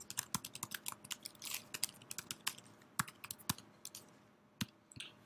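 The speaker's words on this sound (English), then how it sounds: "Oops, I got a little happy with my typing." Close-up keyboard typing: a flurry of quick key clicks that slows into sparser, separate taps toward the end.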